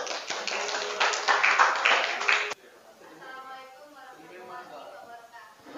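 An Indonesian school class claps loudly together for about two and a half seconds, then the clapping stops abruptly and a quieter voice begins speaking.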